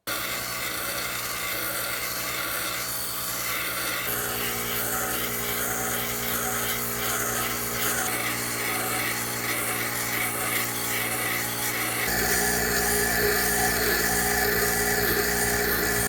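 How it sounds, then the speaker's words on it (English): A power grinder works down the tang of a steel trench knife meant for a copper handle, a continuous loud abrasive rasp with a steady motor drone that shifts in pitch partway through and again near the end. "I'm going to grind it down so it better fits on that copper handle"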